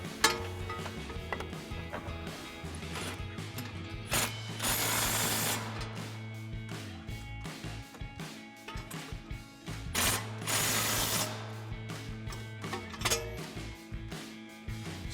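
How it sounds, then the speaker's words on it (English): Ratchet with 21 mm and 24 mm sockets tightening the bottom strut mounting bolts on a 1994-2004 Mustang GT, heard as bursts of fast clicking with pauses between, close up and alone. "we can tighten up our two bottom strut mounting bolts with our 21 millimeter socket and a 24 millimeter socket on our ratchet"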